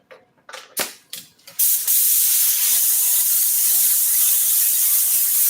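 A few short hissing bursts from an aerosol can of spray adhesive glue on an auto seat, then one long continuous spray hiss that carries on to the end.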